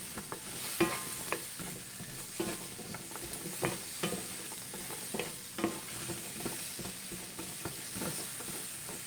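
Sweet potatoes fry in oil in a pan, giving a soft, steady sizzle broken by repeated stirring scrapes and light clatters at irregular intervals, heard up close without any speech.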